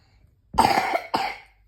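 Two coughs in quick succession, close and distinct, the first longer and raspier, against an otherwise quiet background.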